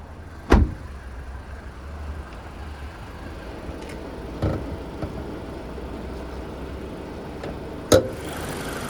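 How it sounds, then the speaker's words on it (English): A 2022 Mazda CX-5 GT engine idles with the bonnet open, a quiet steady low hum broken by a few sharp clicks and thumps. "We'll listen to it run, no major knocks, rattles or squeals, just that motor ticking over nicely."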